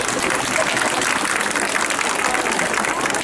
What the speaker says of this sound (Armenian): բարձր ծափերով դիմավորում ենք